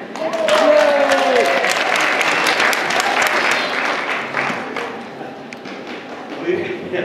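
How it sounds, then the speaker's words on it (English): Theatre audience applauds and cheers for a stage manager, a loud burst of clapping and whoops that swells quickly and then gradually fades as a voice speaks over it. "Give her a hand!"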